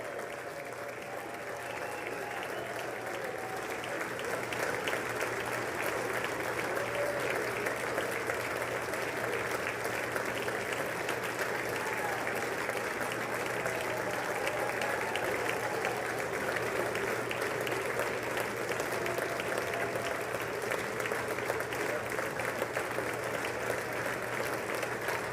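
Audience at the State of the Union address applauding, a long, sustained roar of clapping from a large hall that swells after the first few seconds and holds steady, with a faint low hum underneath.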